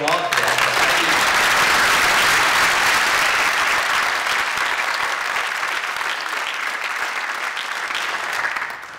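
Warm, full applause from a scholarship award ceremony audience, a dense crackle of many hands that stays loud and steady, easing slightly toward the close.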